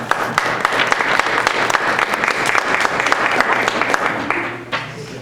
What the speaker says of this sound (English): It's always nice when math gets applause.